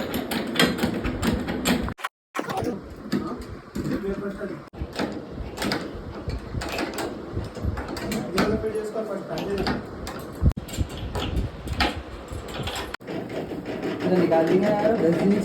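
Fittings being tightened on a hydraulic king-size bed, giving close, irregular mechanical clicks, scrapes and ratcheting knocks that run almost continuously, with a brief gap near the start and a steadier, louder stretch at the end.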